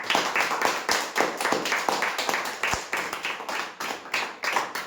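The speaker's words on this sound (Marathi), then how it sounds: "एकदा जोरदार टाळ्या होऊ द्या आपल्या सर्व एजंट मित्रांकरिता." Loud, steady applause from an audience at a lucky-draw event, clapping for sales agents. The claps come as a fast, even train of sharp hand strikes that carries on for about five seconds with no talk over it.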